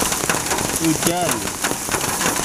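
Steady rain pours outdoors beside a siomay street vendor, a dense hiss of drops pattering on surfaces throughout, with brief voices speaking briefly over it.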